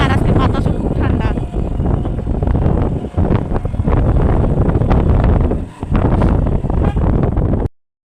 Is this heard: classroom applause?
no